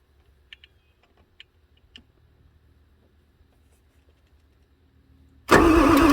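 A 1994 Ford F450 with a 7.3 diesel engine that won't start begins cranking on its starter near the end. The cranking comes in loud and sudden after several seconds of near silence broken only by faint clicks and taps.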